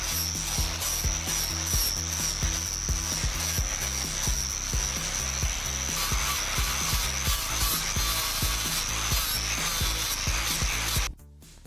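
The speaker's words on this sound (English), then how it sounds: "And here comes the flap disc." Flap disc grinding steadily on a wood lathe build, a loud continuous abrasive roar with a whining tone and rhythmic rubbing pulses for about eleven seconds, then cutting off abruptly near the end.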